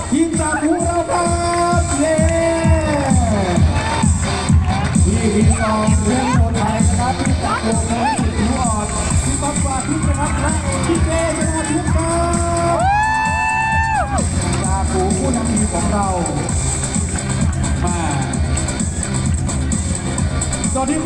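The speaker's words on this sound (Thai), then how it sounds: "ขอเสียงปรบมือต้อนรับ" At a Honda Click launch event in Thailand, a large crowd cheers, whoops and shouts to welcome a team of Thai football stars, continuous and loud, with a PA voice and music-like tones riding over the din.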